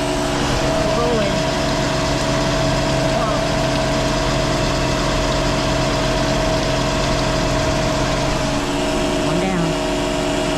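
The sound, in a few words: Scion xB car engine idling during transmission flush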